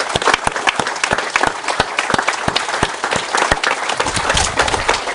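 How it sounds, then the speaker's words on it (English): An audience at a Lutheran historical association's anniversary program gives a sustained round of applause for veterans. The clapping is loud and full throughout, with sharp individual claps standing out from the steady wash. "let's everyone give the men that have been here a round of applause"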